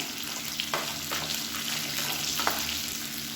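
Halved large tomatoes for a Tamil chutney sizzle and fry steadily in a hot pan, a constant hissing crackle at moderate level with a few soft stirring clicks.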